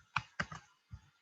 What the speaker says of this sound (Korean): 바디 안에 탭키를 제가 이렇게 하나 눌러서